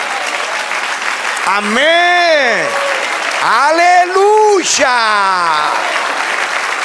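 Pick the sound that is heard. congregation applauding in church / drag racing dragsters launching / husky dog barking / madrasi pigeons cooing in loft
congregation applauding in church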